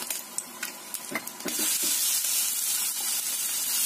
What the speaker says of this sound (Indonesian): Tumis bumbunya sampai matang ya, bikin enak.